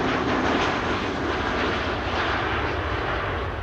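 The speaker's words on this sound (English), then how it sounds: "Pegasus Flight 1251 arriving from Istanbul, Turkey is about to touch down here in the foreground on runway 27" A Pegasus Airbus A321neo touches down on runway 27 at Amsterdam Schiphol, its engines producing a loud, steady broadband roar that stays strong and sustained throughout the clip, with no voices.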